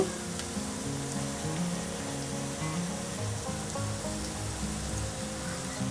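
Tender tamarind leaves dropped into golden fried onions in a pan, giving a steady, close crackling sizzle with soft stirring, continuous and even throughout.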